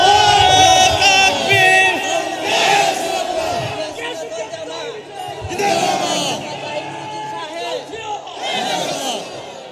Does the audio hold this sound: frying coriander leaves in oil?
no